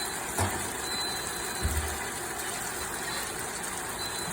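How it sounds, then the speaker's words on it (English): A rice cooker alarm gives a thin, steady electronic beep in short repeated tones over a constant background hum, faint and somewhat distant. "that little alarm going off in the background is some white rice"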